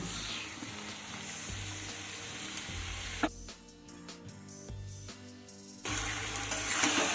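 Marinated mutton meets frying onions in a pan with a loud, close crackling sizzle. It dips into a quieter stretch with tonal background sound, then surges back strongly.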